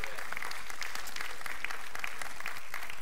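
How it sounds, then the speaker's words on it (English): A church congregation claps together in praise at an evening Bible study, a steady, dense round of applause from many hands filling the room from start to finish. "Just clap your hands, all you people, and let them know how much you love and appreciate the Lord."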